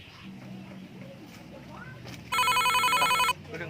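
A telephone gives one bright electronic ringing burst lasting about a second, loud and close, after a quiet stretch with faint background voices.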